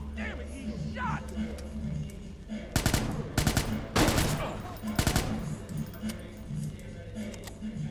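Bursts of automatic gunfire crackle in the video game Watch Dogs, several sharp volleys clustered in the middle, with someone shouting excitedly around them.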